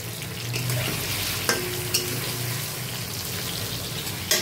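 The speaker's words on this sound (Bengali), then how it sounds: "কুমড়ো ভাজা হচ্ছে এখন" Pumpkin pieces frying in a pan of oil, giving a steady, close sizzle with a few sharp stirring clicks, with no one talking.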